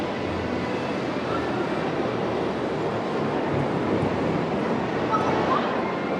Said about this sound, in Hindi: ये देखो भाई, ट्रेन यहाँ पे पहुंच गई है